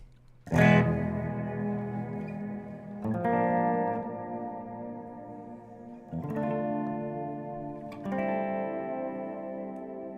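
Electric guitar played through EarthQuaker Devices Barrows and Greer effects pedals with lush reverb, four strummed chords each ringing out with a long shimmering tail, loud and close with no talking.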